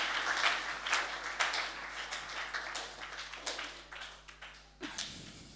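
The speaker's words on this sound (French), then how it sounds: "Est-ce qu'on peut applaudir nos deux témoins là?" A church audience applauds two guest witnesses with a crackling, moderately quiet round of clapping that fades slightly toward the end.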